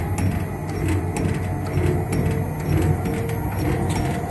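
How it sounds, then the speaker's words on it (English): Double jig powered on for its first test, its motor ramping up to speed with a steady mechanical drone and faint rhythmic clatter, loud and continuous with no talking. "Motor's ramping up to speed"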